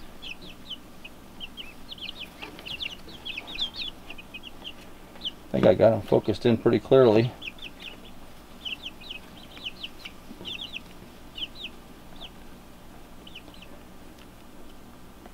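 Backyard chickens clucking in short, scattered calls throughout, with a brief louder burst of nearby squawking midway, while a person talks quietly over them.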